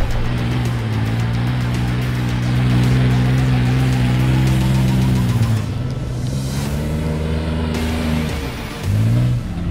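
A Jeep Wrangler engine drones loud and close as it climbs a sand dune, holding a strong steady growl with wheel speed up, then dipping and surging again near the end.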